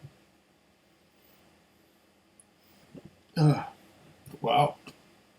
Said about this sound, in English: Burping already.